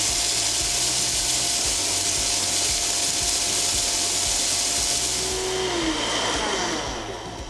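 Vitamix blender grinding dried garlic into powder, a loud continuous roaring whir with rapid churning rhythm that eases and drops off near the end, no voices.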